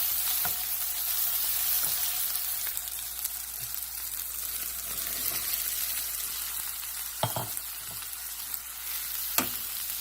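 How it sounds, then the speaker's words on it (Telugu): Onions with turmeric and ginger-garlic paste fry in a pan for ridge gourd tomato curry, giving a soft steady sizzle and a few sharp clinks as a spoon stirs. The sound is faint and close, with no speech. "ఉల్లిపాయలు కొద్దిగా వేగిన తర్వాత అందులో పసుపు మరియు అల్లం వెల్లుల్లి పేస్ట్ వేసి కలపాలి"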